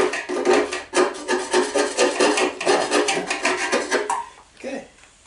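A screwdriver scrapes and chips at crusted debris on an engine that sat unused for seven years, producing rapid, rhythmic rasping strokes close up, then a few slower scrapes at the end.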